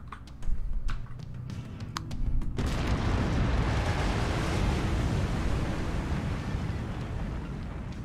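An autocannon fires on a mech in MechWarrior 5: Mercenaries, first a few sharp separate reports, then a sustained, dense roaring rumble of continuous firing and blasts that holds steady to the end.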